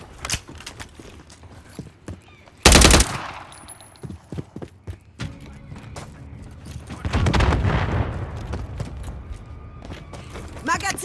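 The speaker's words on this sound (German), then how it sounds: "Feind im Einsatzgebiet. Feindbeschuss." Gunfire in Call of Duty: Modern Warfare 3 on the Favela map in team deathmatch: a loud burst of automatic fire followed by scattered shots and rumbling battle noise, with in-game voice callouts over it.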